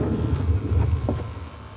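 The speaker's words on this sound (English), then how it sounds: "You can hear a water pump kicking on." Water pump in a Mova P10 Pro Gen 2 robot vacuum dock running as it fills the internal water tank, a steady low hum and rumble with faint gurgling, close and alone.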